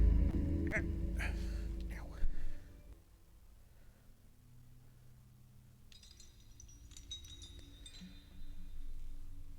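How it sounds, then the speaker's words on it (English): Wind-chime-like clinking in the puzzle video game Boxes: Lost Fragments, a cluster of bright metallic chinks near the start and another faint tinkling run later, with someone talking at the outset. "Sounds like someone's just dropping a couple of wind chimes"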